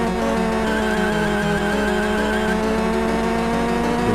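A car in the Game Boy Advance racing game GT Advance drifts with a sustained, loud tire squeal over a steady engine drone.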